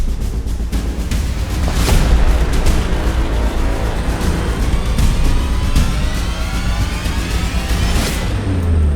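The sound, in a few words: gunshots fired by police during a cockfight gambling raid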